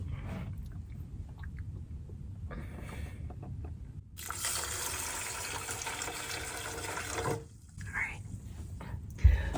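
Water poured from a heavy container filled at a drinking fountain, a steady splashing gush lasting several seconds, preceded and followed by quieter handling noise, close and moderately loud.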